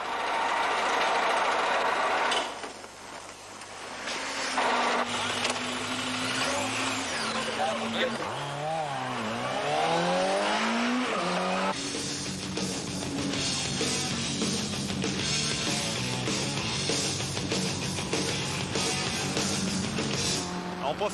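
A 1993 Suzuki GSX 1100R motorcycle engine drones on a test ride, its pitch climbing and falling in revs before settling into a steady run, heard under someone narrating throughout.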